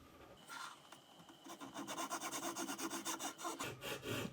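A worn hand saw cuts into a wooden dowel being made into arrow shafts for an English longbow, giving quick rhythmic rasping strokes, close and fairly quiet, with a short pause before the strokes pick up steadily.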